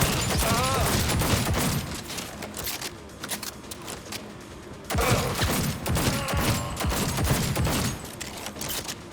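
Gunfire in Cyberpunk 2077, rapid bursts of sharp shots in two loud clusters separated by a quieter gap, with some faint voice activity underneath.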